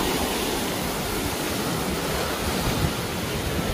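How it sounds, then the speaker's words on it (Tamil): Waves surging into rock pools on a Sri Lankan beach near Galle, the water churning and bubbling through the pools as a dense, continuous close roar with no voices over it. "அலை வந்து அடிச்ச உடனே இதுல கொப்பளிக்கு பாருங்க தண்ணி."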